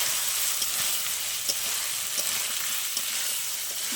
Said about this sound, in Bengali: মশলার সাথে ভালো করে তরকারিগুলো মিশিয়ে নেব।